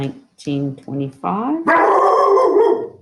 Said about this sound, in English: Sorry about the dog, y'all.